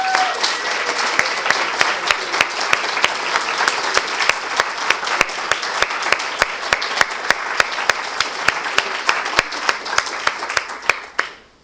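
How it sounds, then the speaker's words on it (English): Sustained applause from an audience honoring cyber interns at a community college security operations center grand opening, steady dense clapping for about eleven seconds with a few louder claps near the end before it quickly dies away. "I would like to give you all a round of applause"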